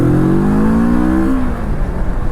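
A Moto Morini Seiemmezzo 650cc scrambler motorcycle revs loudly up close as the throttle is opened on a ride, the engine note climbing in a smooth sweep before settling into a steady roar over rushing wind.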